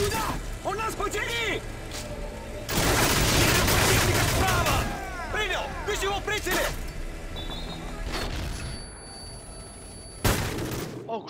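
Enemy gunfire in the video game Call of Duty: Modern Warfare 3: loud, dense bursts of shots and booms come in waves, heaviest in the middle, with a player talking over the battle.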